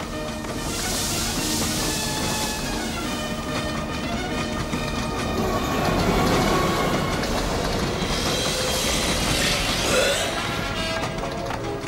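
A moving passenger train with many rail cars rolls steadily past, a continuous rumbling clatter of wheels on rails with occasional higher metallic squeals, loud and close in a film scene.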